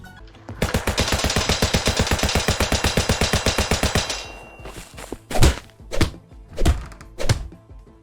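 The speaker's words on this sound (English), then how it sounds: "You literally have the power to cut bullets in half with a sword." A rapid burst of automatic gunfire rattles for about three seconds in a shooter video game, followed by several heavy, separate thunks and slashing impacts as a sword cuts bullets.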